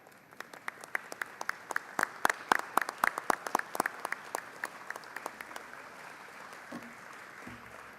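Members applauding in the Texas House chamber at the Capitol, sharp separate claps from a modest group ringing in the hall, fading out into quiet room noise and a brief voice at the end.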